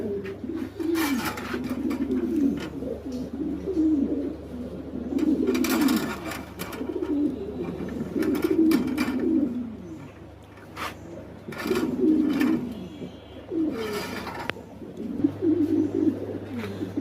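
Lahore pigeons coo steadily on a farm, with overlapping soft, throaty calls rolling on without pause above a low constant hum, and an occasional brighter flutter or chirp.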